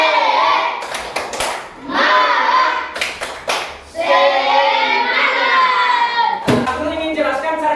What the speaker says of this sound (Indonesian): Tepuk semangat dulu, tepuk semangat.